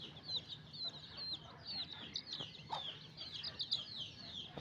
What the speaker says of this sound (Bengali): সবগুলো মুরগি বাহিরে ছেড়ে দেওয়া আছে